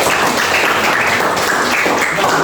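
Classroom applause for a student after a science lesson, a dense continuous wash of many hands clapping at steady loudness for a couple of seconds, with no voices above it.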